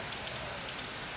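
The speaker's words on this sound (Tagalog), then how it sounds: "Grabe ang ulan. Ang lakas ng ulan." Heavy rain pours steadily onto a surface at a house under construction, a dense, loud, continuous hiss with no pauses.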